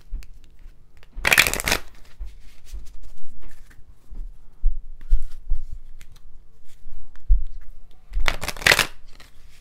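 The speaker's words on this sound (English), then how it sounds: "Let's do a big girl shuffle on this." A tarot card deck is shuffled in two loud, brief bursts, one near the start and one near the end, with quieter handling and small knocks on a table in between.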